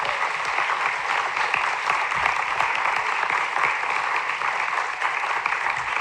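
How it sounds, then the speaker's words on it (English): A crowd at a student town hall at Grinnell College claps in sustained, dense applause that stays loud and even from start to finish. "So please give him another round of applause"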